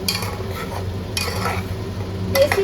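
A ground paste of onion, ginger, garlic, tomato, green chilli and cumin is stirred into frying desi chicken in a pan, with three bursts of spoon scraping and clinking over a low, steady sizzle.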